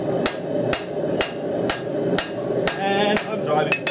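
A 1.5 kg engineering crossbeam hammer strikes steel on an anvil while forging a knife, with seven sharp, evenly spaced metallic blows close by, each ringing briefly before the next.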